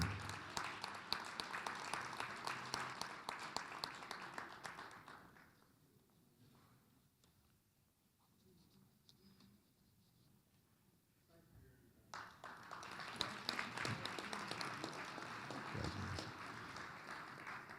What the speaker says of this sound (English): ladies and gentlemen, a round of applause for the John E. Moore Senior Lifetime Achiev